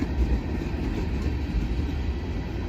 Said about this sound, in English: I hear another train too.